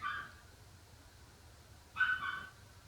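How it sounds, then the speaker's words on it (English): A dog barks twice in the distance, one short bark at the start and another about two seconds later, faint over a quiet background. "no video is complete without Archie barking"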